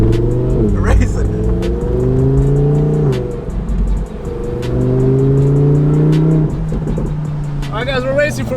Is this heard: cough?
no